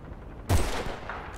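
A single sharp sniper rifle shot in Battlefield Bad Company 2, fairly close, with a quick onset and a short fading tail over quiet background ambience.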